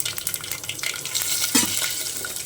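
Dried red chillies fry in hot oil for a dal tempering, a steady close sizzle with a spoon stirring and a few crackles.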